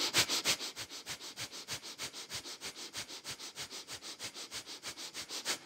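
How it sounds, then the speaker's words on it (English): Rapid, even nasal breathing in a kundalini yoga kriya, quick pulsing in-and-out breaths through the nose at a steady pace of about four per second, close and clear with no talking. "breath of fire, fast breathing in and out through the nose for 1 minute"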